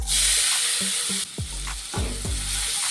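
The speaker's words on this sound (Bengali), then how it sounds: "পেঁয়াজটাকে একটু ভেজে নেব" Finely chopped onions hitting hot oil with a little butter and whole cumin: a loud burst of sizzling that settles into a softer crackle after about a second, with musical tones over it.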